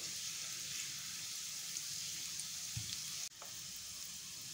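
Garlic cloves fry in oil over very low heat, giving a steady, soft sizzle with small crackles and a brief scrape partway through. The sound is close and quiet, with no talking.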